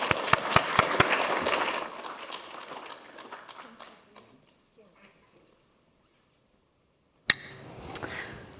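Audience applause closing a university lecture on climate justice. Dense clapping from a crowd fades out over about four seconds into near silence, then a sharp knock and some faint sounds follow at the end.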